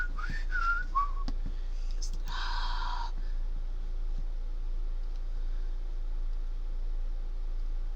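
People whistle a familiar welcome tune, short faint melodic phrases near the start followed by a quiet stretch of room noise and a steady low hum.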